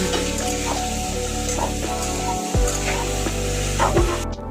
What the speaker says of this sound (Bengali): একটু ভাজা ভাজা করে দেবো, তারপরে মশলা দিতে হবে।